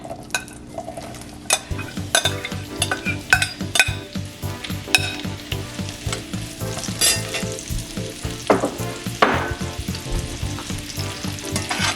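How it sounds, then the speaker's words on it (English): Loud, continuous sizzle of potatoes frying in olive oil in a pan, with a regular rhythm of utensil scrapes and light clinks against the metal. "I'm going to get these frying up"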